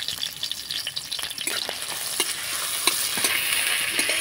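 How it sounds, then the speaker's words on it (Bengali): Chopped ginger and green chilli fry in white oil in a wok, a steady close hiss and crackle with occasional scraping stirs, growing slightly louder toward the end, with no voices. "আদা লঙ্কা কুচিটা আমি ভালো করে ভেজে নেব, একটুখানি নাড়াচাড়া করে"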